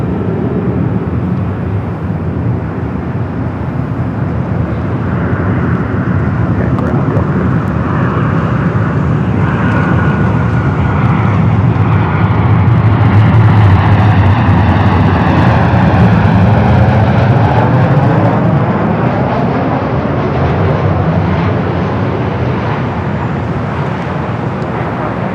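An airliner arriving at Los Angeles airport roars in loud and close, a sustained engine rumble with a sweeping, shifting whine as it passes overhead, no voices.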